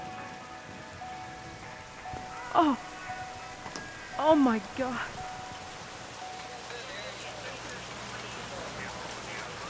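Steady rain falls throughout, a continuous wash of drops, while a voice briefly exclaims near the start.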